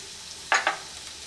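Ginger garlic paste with pepper powder sautéing in a pan, two quick scraping stirs close by against a quiet, faintly hissing background.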